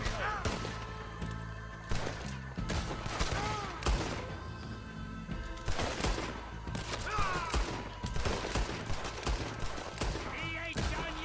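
Repeated gunshots during a gunfight with gang members in a ghost town in the video game Red Dead Redemption 2, sharp cracks scattered through the clip alongside game music and someone talking.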